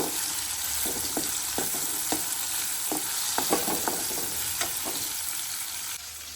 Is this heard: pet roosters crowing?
no